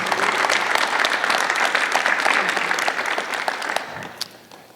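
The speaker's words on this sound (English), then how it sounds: "Let's give a round of applause to everyone on stage right now." Sustained audience applause for panelists on stage at a university blockchain conference, dense and steady at close range, thinning out slightly over the final second.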